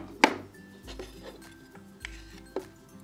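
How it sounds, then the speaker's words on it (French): A wooden spoon scrapes cake batter from a bowl into a mould in a toy kitchen set, giving a few sharp clacks and short scraping strokes against quiet background noise, with no talking. "On va utiliser la cuillère en bois pour être sûr de tout mettre dans le moule"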